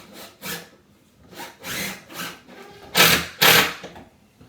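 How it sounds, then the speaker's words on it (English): A screw is driven into a wooden kitchen panel during a kitchen build, heard as repeated rasping, grinding turns in short bursts, with the last two strokes louder and close, and no talk. "I'm just going to screw it up. Straight through that hole there."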